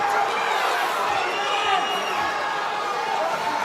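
A live crowd at a mixed martial arts fight event roars steadily and loudly as the bout reaches a tense moment, a dense continuous wall of cheering with no individual voices standing out.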